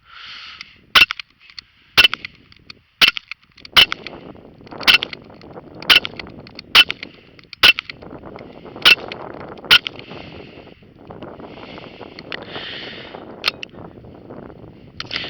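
Sharp, evenly spaced pops from a Daisy Powerline 5501 BB gun at target practice, about a dozen shots roughly a second apart, each a crisp crack with a faint metallic ring, over quiet background rustle.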